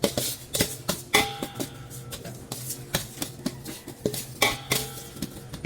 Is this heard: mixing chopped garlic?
yes